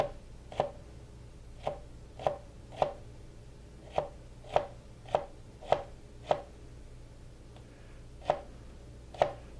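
A knife slices jalapeños into very narrow pieces on a board, making about a dozen crisp, evenly spaced chops close up with short gaps between strokes, over a quiet background.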